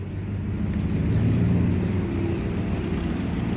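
A pickup truck engine rumbles deep and steady as it pulls up, loud and continuous throughout.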